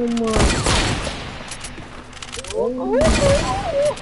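Rapid bursts of gunfire in a shooter video game, loud and close, scoring a headshot, with rising and falling game effects overlapping excited voices talking throughout.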